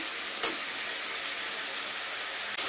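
Chicken pieces fry in a hot pan for chow mein, giving a steady, loud sizzling hiss with a small spatter near the start.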